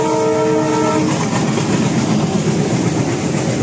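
Train horn blasting loudly at a level crossing, a sustained multi-tone blare for about a second, then the heavy rumble and clatter of the passing train filling the rest, close and loud.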